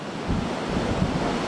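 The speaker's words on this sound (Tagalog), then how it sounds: "Dama rin ang lakas ng ulan at hangin sa Pasay City" A storm sweeps Pasay City with heavy rain and strong wind, a dense unbroken roar of rushing gusts and pelting water buffeting the microphone, loud and close throughout, with no voices.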